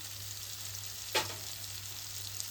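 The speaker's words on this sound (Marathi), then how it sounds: "सर्व मसाले मिक्स करून घेऊ, व्यवस्थित परतून घेऊ" Ground spices being sautéed with softened onion and tomato in a pan for a cashew curry, a steady, gentle sizzle close by with one brief scrape or stir partway through.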